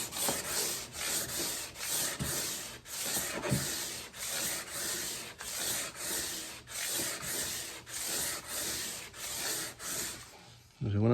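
Sandpaper is worked down to 220 grit to bring fret dots flush with a guitar fretboard, with long rhythmic rubbing strokes that are close and steady and continue for the whole stretch.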